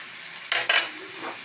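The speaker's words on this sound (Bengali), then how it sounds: "পেঁয়াজটা ভাজা হয়ে গেছে" Onions frying in a pan under a faint steady sizzle, broken by two quick scraping stirs of a spoon, close up with no talk.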